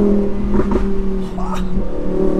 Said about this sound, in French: C'est ce moment-là que tu te mets à 5000 tours. 5000 tours et ça fait tous les pops.